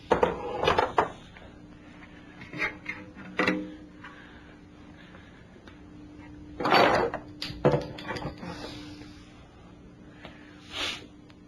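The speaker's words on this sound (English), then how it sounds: "let's start taking our pan bolts out. Okay, we'll get the pan off now." Bolts come off a 4R70W transmission's oil pan and the pan is pulled free, with scattered metallic clinks, scrapes and knocks between quiet stretches and one longer clatter partway through.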